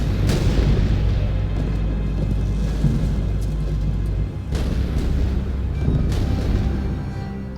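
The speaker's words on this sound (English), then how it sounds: "So the bombardment continues. And of course, the Spanish basilisks are doing their fair share of that" Basilisk cannons bombard a siege in the Medieval 2 Total War battle, booming continuously with heavy low rumble and a couple of sharper blasts, dense and loud throughout.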